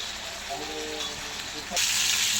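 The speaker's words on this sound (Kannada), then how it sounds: "ಫ್ರೈ ಹಾಕಿ ನೋಡ್ರಿ ಎಷ್ಟು ಚಂದ ಫ್ರೈ ಆಗತ್ತೆ" Fish frying in a pan, a steady sizzling hiss that swells louder near the end, with a voice talking over it.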